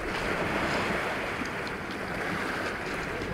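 Continuous roar of rough surf crashing against sea defences at Bembridge, with gusty wind noise over it throughout.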